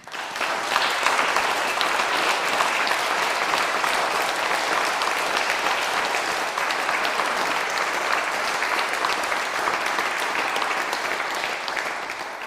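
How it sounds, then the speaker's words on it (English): Audience at a BEM investiture ceremony applauds award recipients, a sustained, even patter of many hands clapping for about twelve seconds, fading slightly at the end. "So if you give everybody a round of applause"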